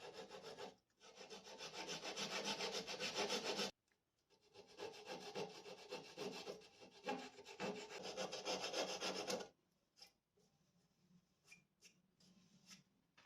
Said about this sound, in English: now I'm just going to take my saw and just cut these flat spots off